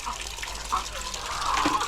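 Water swishes and splashes as it is stirred together with blended oregano, a brief close sloshing over low background noise.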